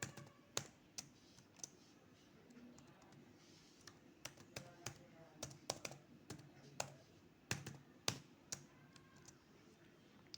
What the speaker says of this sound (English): I'm going to retype my password.